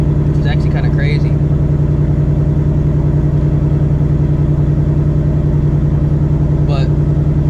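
Steady, loud, deep idle from a straight-piped Ford Mustang GT S650 Coyote engine close by, an unbroken throb running beneath someone talking.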